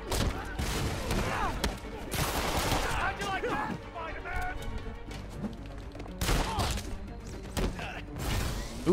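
Gunfire from armed thugs in Marvel's Spider-Man on PS4, dense bursts and shots running throughout amid game effects and clatter, with voices talking over the action.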